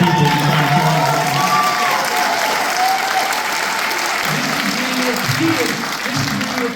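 A large rally crowd in West Hartford, Connecticut applauds loudly and steadily, dense clapping mixed with a few scattered cheers and voices.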